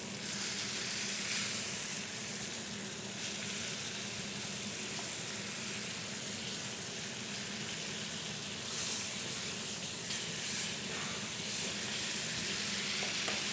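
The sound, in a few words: beef short ribs searing in a pan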